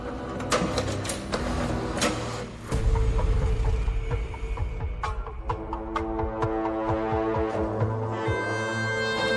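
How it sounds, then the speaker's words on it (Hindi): A printer runs steadily with mechanical whirring and rhythmic clicks and thumps, a layered humming drone with repeated short knocks, close and fairly loud. "प्रिंटर के चलने की आवाज तो हुई,"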